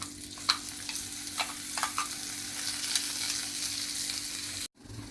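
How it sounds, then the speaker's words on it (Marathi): Ground masala paste fries in oil in a pan with fried brinjal for a mixed vegetable dish, a steady close sizzle with soft stirring scrapes that cuts off abruptly near the end. "आता ह्यात आपण ऍड करणार आहोत आपला वाटलेला मसाला"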